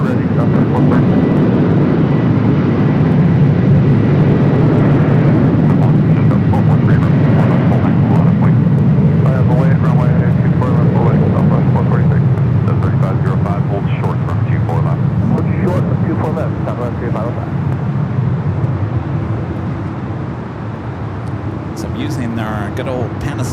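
Embraer E-Jet departing runway 24 Left at Los Angeles International Airport, a loud continuous jet engine roar that builds, holds and slowly fades into the distance as the plane takes off.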